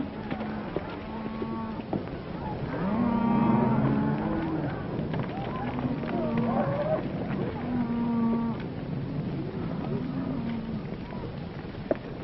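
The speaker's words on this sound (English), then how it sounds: "Joe, get those cattle watered down right away" Cattle lowing on a Western ranch, several drawn-out moos repeating at intervals over a steady outdoor background, moderately near and alone without talk.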